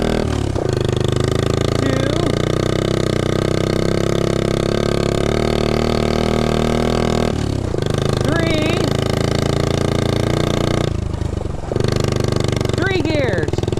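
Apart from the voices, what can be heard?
1969 Honda Z50 mini bike engine while riding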